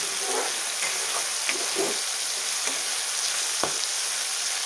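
Tomatoes sautéing over a low gas flame: a constant hissing sizzle fills the sound, broken by occasional light scrapes and taps of a spatula, alone without talk.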